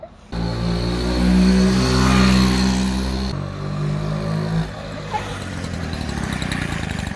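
A vintage Peugeot 102 KT moped, smoking and low on fuel, catches and runs right after starting, its small engine buzzing loud and close in a steady drone that shifts pitch twice before settling into a rougher idle.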